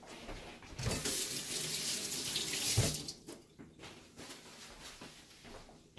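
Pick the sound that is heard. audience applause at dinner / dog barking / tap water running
tap water running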